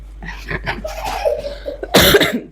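A person with a lingering cough in a hospital setting gives a loud, close burst of coughing near the end of the clip, after a stretch of voiced breathy or throaty sounds.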